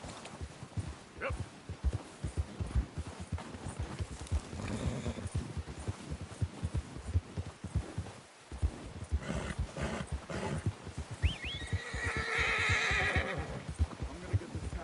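A horse whinnies loudly near the end over steady clip-clopping hooves and ambient game sounds in Red Dead Redemption 2, with a brief dog-like bark earlier.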